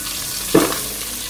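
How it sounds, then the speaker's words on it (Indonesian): Aromatic spices such as onion, cardamom and cinnamon frying in hot oil in a pan for soup, a steady close sizzle with a short louder crackle and stir partway through, no talk. "Yang pertama kita tumis dulu wangiannya"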